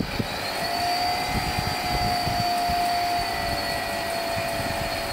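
An electric propeller with white tape on both blades spins steadily at around 3000 RPM, a loud continuous whirring drone with a sustained high tonal whine and no talk.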